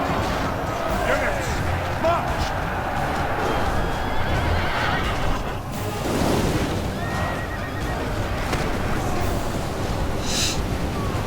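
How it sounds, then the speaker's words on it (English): Horses neigh and whinny amid the clamour of a medieval cavalry battle in Medieval II: Total War, a Portugal versus Scotland siege, with dense continuous battle noise, hoofbeats and several loud whinnies rising above the din. "A lot of horses dying."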